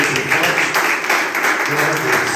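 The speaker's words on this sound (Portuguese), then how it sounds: "Vamos aplaudir o Senhor também." A church audience claps together at a service, a short burst of lively applause with a voice speaking over it.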